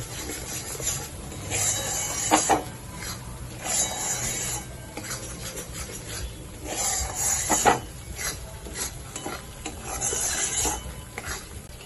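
A spatula scrapes and stirs spices around a pan for Kashmiri aloo dum, with repeated rasping strokes and occasional clinks of metal at a moderate, close distance, no one speaking.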